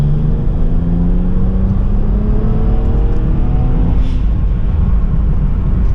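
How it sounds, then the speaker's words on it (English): A BMW 335 fitted with an upgraded front-mount intercooler and stage 1+ tune pulls hard at full throttle from third gear around 40 mph, a loud, steady engine drone with rising harmonics heard from inside the car, no talking. "Let's do a full throttle pull."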